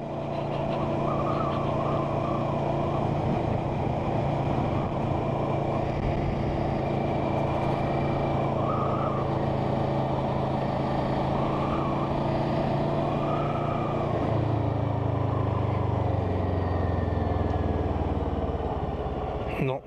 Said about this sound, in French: Il y a un bruit de chaîne là.